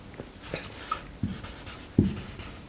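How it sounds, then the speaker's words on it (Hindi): A pen writes by hand, giving a few short scratchy strokes and soft taps close by in a quiet room, with no talk. "जैसे कि मैं लिखती हूं"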